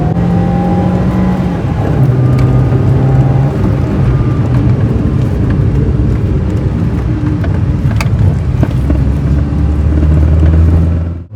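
A Ford Ikon car accelerates hard at full throttle in second gear, its engine roaring loud and steady with rising pitch and a rumbling undertone, close and continuous with no talk.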